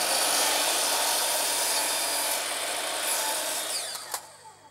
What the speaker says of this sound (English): Set the drop saw to 45 degrees and cut your side bevels.